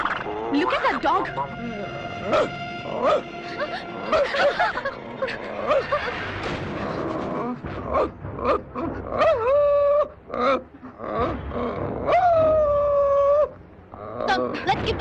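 A man imitates a dog with his voice, making barking and growling noises in loud, rapid bursts amid other voices and animal-like vocal effects, with talk throughout.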